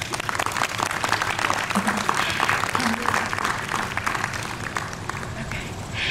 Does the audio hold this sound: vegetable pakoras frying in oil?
no